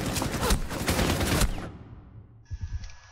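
Gunfire in the video game Rainbow Six Siege, heard as a dense rapid burst of automatic shots that cuts off, followed by a faint tone and a couple of muffled thumps.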